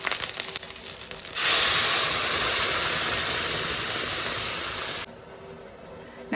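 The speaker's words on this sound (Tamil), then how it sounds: "எண்ணெய் ஊற்றி கடுகு போட்டுட்டேன்" Mustard seeds hit hot oil and burst into a loud, steady sizzle and crackle that holds for several seconds, then drops off abruptly.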